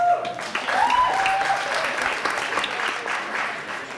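Audience applause for athletes at a 1998 awards night, a dense, steady clatter of many hands filling a hall for about four seconds, with a faint tonal squeal near the start.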